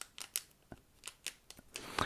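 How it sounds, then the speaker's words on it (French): Scissors snip through a Pokémon trading card booster pack in a quiet room, a series of crisp close cuts with short gaps between them. "je prends toujours la paire de ciseaux"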